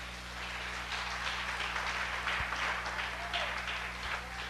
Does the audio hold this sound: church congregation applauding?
yes